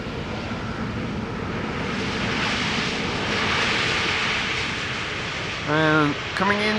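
Airbus A321neo airliner on landing approach at Amsterdam Schiphol, a loud steady engine roar swelling and fading across several seconds, with a brief voice-like tonal burst near the end.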